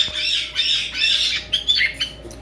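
Pet parrot in an indoor bird room giving a run of loud, harsh squawks, several bursts close to the listener in quick succession with no talk.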